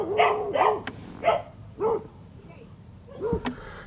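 A dog barks early in the morning in a residential neighborhood, several loud, close barks in quick succession, then a pause and one more bark with a yip-like edge.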